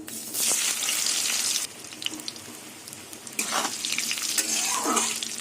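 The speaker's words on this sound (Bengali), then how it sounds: "এবার আলুটা কিছুক্ষণ ঢেকে ঢেকে ভেজে নেব" Potato pieces frying in a pan of oil tempered with asafoetida, dried red chillies, bay leaves and whole cumin, a steady close broadband sizzle that drops back, then swells again with stirring clatter.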